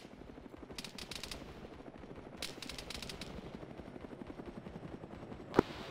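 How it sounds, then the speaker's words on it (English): Helicopter in the military video game Arma 3, a steady rapid rotor chop throbbing continuously, with bursts of distant gunfire and a single sharp close crack near the end. "Helicopters are still here."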